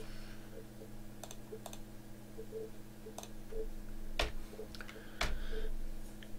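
Quiet computer keyboard typing as code is written, with scattered key taps and a couple of sharper clicks over a steady background hum.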